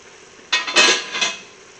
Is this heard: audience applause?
no